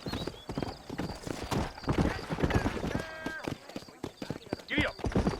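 Horse hooves clip-clop steadily in the Red Dead Redemption video game as a rider trots along, with a brief whinny near the end and someone talking over the hoofbeats.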